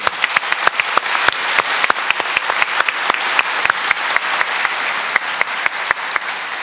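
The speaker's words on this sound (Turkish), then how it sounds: "Evet, alkışlayalım." Studio audience applause on a Turkish television debate programme, a dense steady wash of many hands clapping close and loud, with sharp individual claps standing out throughout.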